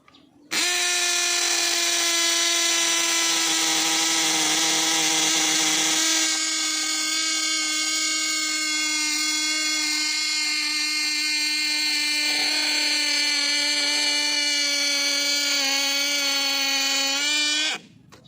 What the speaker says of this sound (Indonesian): Untuk mengebor tembok beton tidak ada masalah sama sekali, bahkan ini cepat ya.